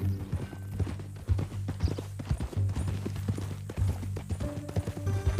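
Horse hooves clip-clop in Red Dead Redemption 2 as a rider travels at an easy, rhythmic walking pace, with close, distinct, evenly spaced hoofbeats over a low, steady background hum.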